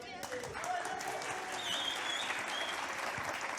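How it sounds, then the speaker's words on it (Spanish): A crowd applauds steadily for several seconds, dense clapping at moderate distance, with a voice speaking briefly over it. "Un fuerte aplauso a Julie."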